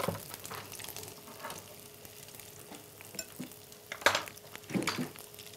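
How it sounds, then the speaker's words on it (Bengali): Food fries quietly in a pan, a soft sizzle broken by intermittent stirring scrapes and a few light utensil clinks, with a faint steady hum underneath and no speech. "তাহলে আমরা এটাকে সুন্দর করে ভাজতে থাকি।"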